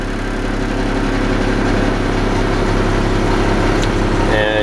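A 1993 Navistar International truck, a scrapyard rig, runs at a steady idle after starting, its low diesel engine rumble droning evenly throughout with a brief clatter near the end, no talk.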